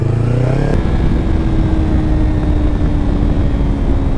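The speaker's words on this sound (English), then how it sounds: "I love the way this bike backfires just a little bit. So satisfying." Motorcycle engine idling loud and steady after a brief blip of revving, with low rumbling exhaust throughout; any backfire pops are not clearly distinct.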